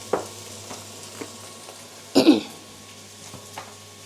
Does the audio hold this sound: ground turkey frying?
yes